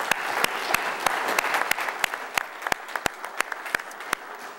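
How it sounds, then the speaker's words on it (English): Applause from a conference audience at a workforce, energy efficiency and green jobs session: a thin scattering of sharp individual claps, irregular and fairly close, over a soft hiss of room noise, with no talking. "they deserve a big hand of applause for that"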